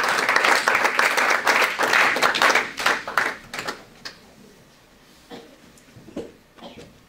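A church congregation applauding, dense clapping for a few seconds that thins into scattered claps and fades out.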